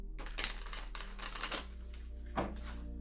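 A deck of tarot cards is shuffled in a few quick, soft riffling bursts that sound close and quiet, with short pauses between them.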